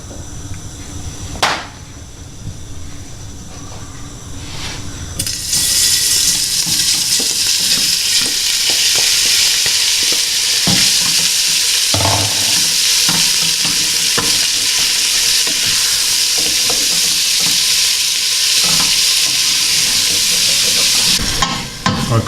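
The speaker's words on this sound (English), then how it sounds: "we're just going to fry off the pancetta and bacon lardons" Pancetta and bacon lardons hit hot olive oil after a few quiet knocks, bursting into a loud, continuous sizzle that holds steady for a long stretch, broken by occasional stirring clanks and scrapes of a utensil in the pan.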